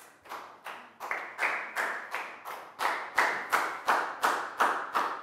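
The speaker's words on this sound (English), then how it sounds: "a big round of applause" In a Year 4 maths lesson, a small group claps in a steady rhythm of evenly spaced, close, sharp claps that keeps going for several seconds, with no talk.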